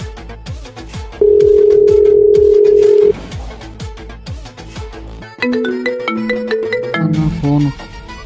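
A phone rings with no one picking up: a loud steady electronic tone holds for about two seconds, then a melodic ringtone repeats several times, with low voices and background sound between.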